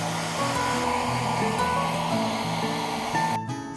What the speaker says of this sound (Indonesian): Kalau kita dalam ruangan, kita butuh bantuan hair dryer seperti ini